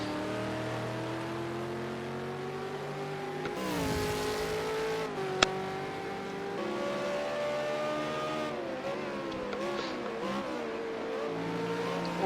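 V8 Supercar engine in a racing video game at Watkins Glen International GP, a steady drone whose pitch drops under heavy braking, with a short sharp click and changing engine tones alone throughout.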